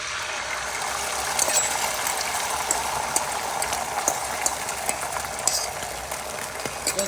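Beaten eggs sizzle in hot oil for egg fried rice, a steady crackling hiss with scattered pops, close and continuous, with no talking.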